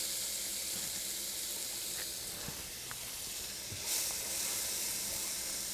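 Finely chopped medium yellow onion sizzles in melted butter in a pan, a steady broad hiss close by with faint clicks of stirring, no talk over it.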